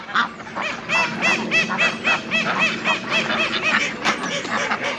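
Ducks at a large city farm in London, runner ducks among them, honk and quack in a dense, continuous chorus of repeated nasal calls, close and loud with no pauses and no talking.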